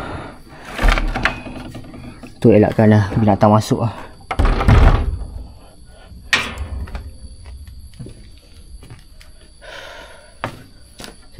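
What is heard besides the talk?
closing house door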